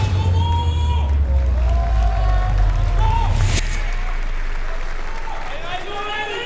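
A large crowd roars and applauds steadily throughout, a dense wash of cheering with a low rumble underneath, at a world championship match.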